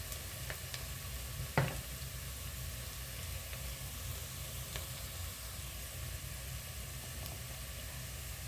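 Onions browned in oil in a pan give an even, quiet sizzle throughout, broken once early by a sharp clank of a utensil.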